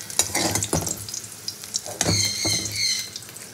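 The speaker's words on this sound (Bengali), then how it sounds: "তো উচ্ছেগুলো আমার লাল লাল করে ভাজা হয়ে গেছে, এবার আমি তুলে দেবো।" Bitter gourd fried until crisp sizzles in a pan, with scraping and clinking as the pieces are stirred and lifted, close and busy with no speech.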